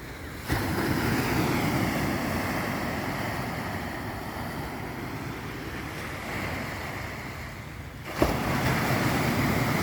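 Calm sea waves wash steadily onto a beach shore, a continuous broad rushing surge with wind buffeting the microphone throughout and no voices.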